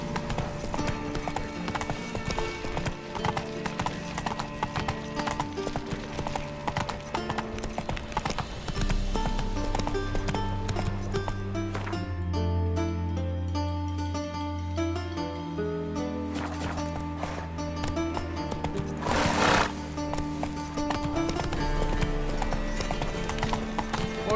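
Clip-clop of the horse Roach's hooves in The Witcher 3 video game, a steady rapid trot that goes on without a break, heard together with game music and a snort or whinny partway through.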